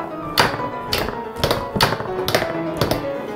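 Autonomous foosball robot table knocking the ball away on defence, a run of sharp taps and hollow thuds from rods and ball striking, irregular and close, with no voices.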